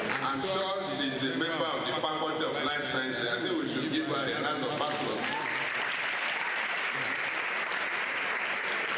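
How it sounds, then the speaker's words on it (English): Applause from the audience at a university inaugural lecture, a steady wash of many hands clapping at moderate distance that runs throughout, with a voice speaking over it in the first half before the clapping continues alone. "I think we should give her a round of applause."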